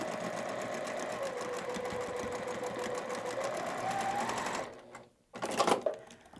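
Close up, a sewing machine stitches a quilt block seam, running steadily for about four seconds, pausing, then giving one short final burst.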